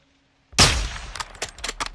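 A single loud, close sniper rifle shot in Call of Duty Modern Warfare 2 breaks sudden silence with a sharp crack and rolling boom, followed by a run of quick metallic clinks and rattles.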